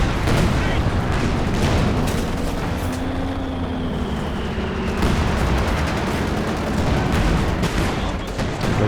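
Artillery barrages in Company of Heroes 2 during a 2v2 match, a dense, continuous rumble of booming impacts and gunfire at steady loudness throughout, with a commentator talking over it.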